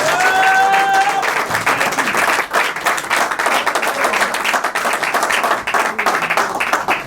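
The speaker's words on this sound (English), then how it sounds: "Let's give a loud applause for Nick Smith." Audience at a live Q&A event giving Nick Smith loud, sustained applause, a dense crowd of clapping hands throughout, with a brief cheer or whistle at the start.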